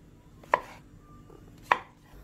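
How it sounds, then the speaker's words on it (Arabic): Knife slicing fresh mushrooms on a cutting board: two crisp, isolated chops about a second apart, close and clear against a quiet background with no talk. "عندي أربع حبات فطر، بدي أقطعهم شرحات"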